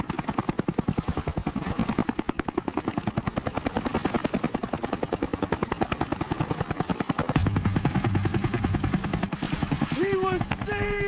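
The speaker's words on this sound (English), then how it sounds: "A helicopter." A helicopter flying over a storm at sea, its rotor thudding in a steady rapid beat that stays loud and close throughout, with a rising whine near the end.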